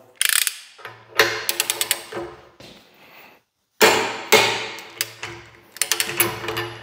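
A cordless impact wrench tightens a bolt at 140 Nm, sounding as several loud, close hammering bursts of rapid clattering separated by short pauses.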